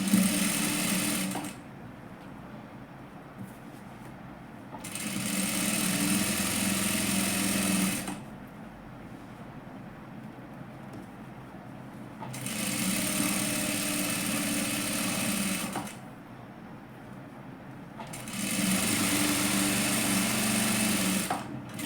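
A sewing machine topstitches the fabric of a katori blouse, running in three long steady bursts with short pauses between them, close and loud with no talking.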